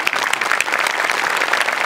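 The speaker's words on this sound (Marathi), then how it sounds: "यांच्यासाठी जोरदार टाळ्या." A studio audience at a comedy show breaks into dense, sustained applause, loud and close, a steady wash of many hands clapping at once.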